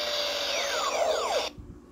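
Power Rangers Beast Morphers Beast-X Ultrazord toy plays an electronic flying sound effect, a loud whirring sweep with descending whistling tones that cuts off abruptly, followed by faint handling clicks.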